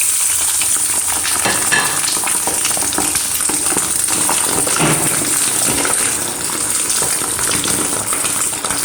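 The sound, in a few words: sheep fat frying in a pan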